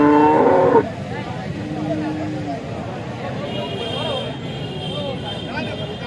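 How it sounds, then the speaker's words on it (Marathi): A Jersey cow lets out a loud, close moo at a cattle market, and it ends within the first second. Crowd chatter, voices and distant vehicle noise follow. "ही देखील शेतकरी बांधवांची गाई आहे,"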